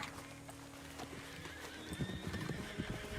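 Horses in a Gold Rush–era western roleplay video game whinny and neigh, followed by a run of nearby clip-clopping hooves in the second half.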